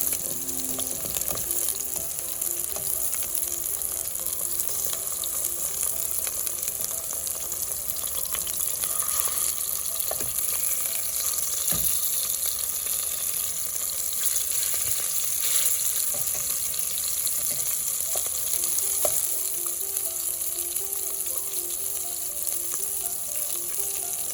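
Salmon searing in a pan as the pieces are slowly turned, a steady close sizzle and bubbling with occasional soft clicks and pops, continuing alone throughout.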